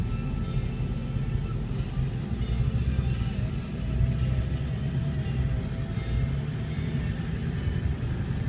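A 2002 Ford F550 XLT crew cab 4x4 dually, a two-ton heavy-duty truck, rumbles steadily with a low, even engine drone throughout and no voices.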